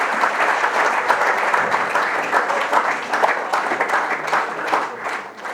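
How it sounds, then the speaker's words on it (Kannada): Students applaud loudly at a ceremony honouring a candidate selected for the Indian Army, with a dense, sustained burst of clapping from a large group that fades at the end. "ಎಲ್ಲ ವಿದ್ಯಾರ್ಥಿಗಳು ಜೋರಾದ ಚಪ್ಪಾಳೆ ಮೂಲಕ ಅವರನ್ನು ಅಭಿನಂದಿಸಬೇಕಾಗಿ ವಿನಂತಿ"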